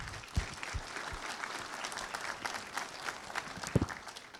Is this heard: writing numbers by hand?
no